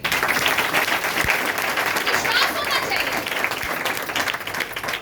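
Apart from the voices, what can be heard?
audience applause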